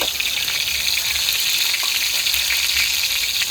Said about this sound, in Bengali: সব কিছু একসাথে দিয়ে মশলাটা কষিয়ে নিচ্ছে